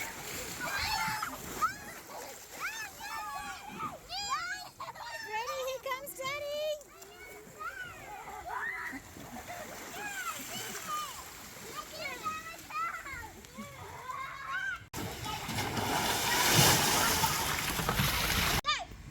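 Children splash and shriek in a public swimming pool and splash park with water slides at Julia Creek, excited kids' voices and shouts over continual water splashing, with a louder burst of rushing spray near the end.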